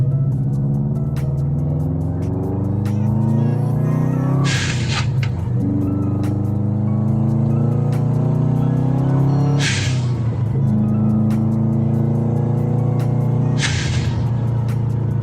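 A Subaru WRX engine, freshly fitted with new spark plugs, drones steadily while driving, with three sharp revving surges that rise and fall over about fifteen seconds, loud and close from inside the car.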